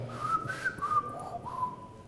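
Someone whistles a short melodic phrase from a film theme, thin, wavering and fairly faint, with sliding notes against quiet room noise.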